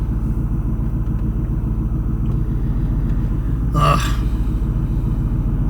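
A car engine idles in a backed-up traffic jam while waiting at a traffic light in a small town, a low steady rumble heard from inside the car, with a brief louder swell partway through.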